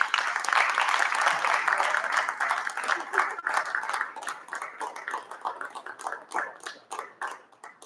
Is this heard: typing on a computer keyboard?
no